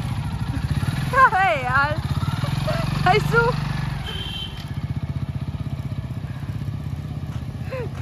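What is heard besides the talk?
motorcycle riding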